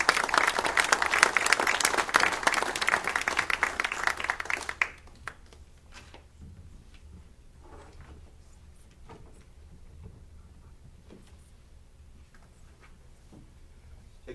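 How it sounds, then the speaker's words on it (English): Audience applause for elected officials taking seats at a gathering, loud and dense for about five seconds, then cutting off abruptly to a quiet room with scattered faint knocks and shuffles. "Nice round of applause."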